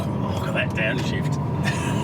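A car engine rumbles close and steady through a downshift, with a low, even drone and no sharp rev spike, while a voice talks over it.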